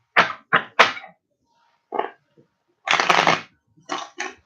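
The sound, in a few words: shuffling oracle cards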